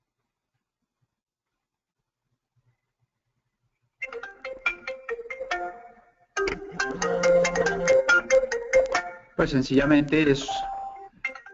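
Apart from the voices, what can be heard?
phone ringtone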